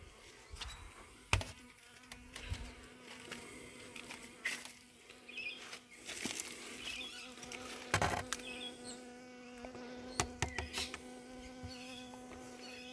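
Honey bees buzz around a backyard beehive in a steady close insect drone, with individual bees swelling louder as they fly past and several sharp clicks and knocks scattered throughout.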